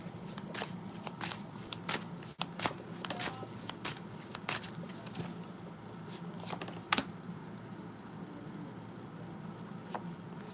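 Tarot cards shuffled in a live love reading, giving soft repeated riffling and clicking bursts over a steady low background hum, with a few sharper snaps along the way.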